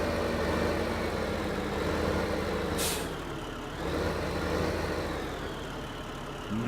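A tractor engine in the farming game Farming Simulator 2015 drones loudly and steadily, its low hum dipping briefly midway with a short hiss of released air.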